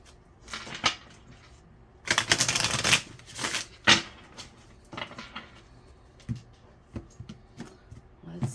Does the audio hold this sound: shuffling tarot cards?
yes